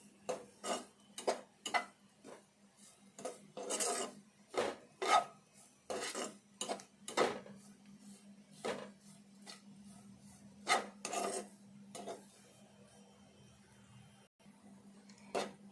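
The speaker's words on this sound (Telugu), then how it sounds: "ఇది ఎప్పుడు కలుపుకుంటూనే ఉండాలి, ఎందుకంటే ఇట్లా అడుగంటుకుంటుంది" A spatula scraping and stirring grated carrot in a pan for carrot laddu, a long series of close, quiet, irregular scrapes and taps against the metal over a faint steady hum, with no talk.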